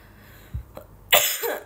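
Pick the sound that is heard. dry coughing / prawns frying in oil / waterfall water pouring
dry coughing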